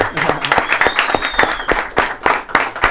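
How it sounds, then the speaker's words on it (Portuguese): Podcast hosts clap for Lucas Moura, the Copa do Brasil champion, in a studio: a handful of sharp, close, irregular claps from a few people, with a faint whistle or whoop rising briefly in the middle. "Bate muitas palmas pro campeão da Copa do Brasil, Lucas Moura, rapaziada."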